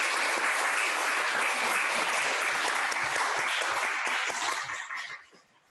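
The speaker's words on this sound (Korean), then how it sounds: "우리 옆에 있는 분들에게 박수로 환영을 함께 나누겠습니다." A church congregation claps together in sustained, dense applause during a Sunday service, steady and loud for several seconds before tapering off to quiet.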